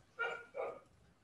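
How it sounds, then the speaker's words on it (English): A dog barks twice in quick succession, somewhat distant and moderately quiet, over faint background noise during an indoor recorded interview. "that's a dog."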